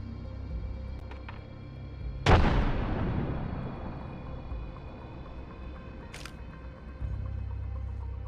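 Frag grenade detonating in the video game Apex Legends: a single sharp blast partway through, followed by a long decaying rumble over a low background hum.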